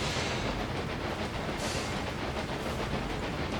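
A train runs in the railway-building video game Railway Empire 2: a steady, dense rumble of rolling wagons with faint rhythmic clatter, continuous and fairly loud throughout, with no voices.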